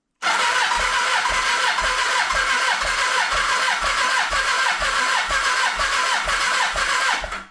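1985 Kawasaki 1100 LTD motorcycle engine, revived after 30 years, cranking over in a loud, close, rapid rhythmic churn that continues steadily for several seconds before cutting off.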